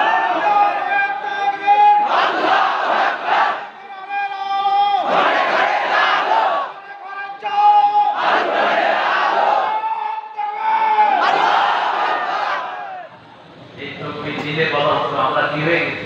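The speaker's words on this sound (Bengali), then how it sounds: "একটু জোরে তাকবীর বলুন তো, আল্লাহু আকবার" A large crowd chants the takbir in call and response, a single voice leading a long sustained phrase and the mass of voices roaring back in loud, rhythmic bursts repeated several times.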